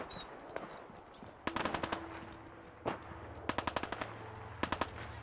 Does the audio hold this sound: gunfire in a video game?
yes